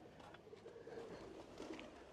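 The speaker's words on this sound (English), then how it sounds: "Yeah, pigeons everywhere." Pigeons coo softly and at a distance among the brick ruins of Kham Yat Palace in Ang Thong, Thailand, their low calls faint against steady outdoor background noise.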